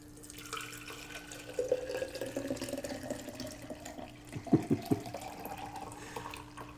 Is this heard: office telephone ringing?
no